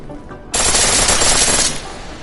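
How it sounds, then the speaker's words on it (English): A pistol in the Deus Ex video game fires on full auto in one loud, continuous rapid burst lasting about a second, heard on its own against quiet background. "The pistol in full auto will take down targets fast"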